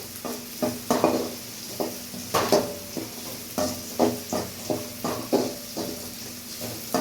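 A drumstick pickle with garlic sizzles in a pan while a spoon stirs and scrapes it in a regular rhythm of close, repeated strokes; no talk.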